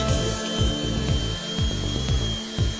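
A FEIN orbital sander whirs steadily with a high-pitched buzz, its pitch dipping and rising repeatedly as the pad is pressed and moved across a boat surface.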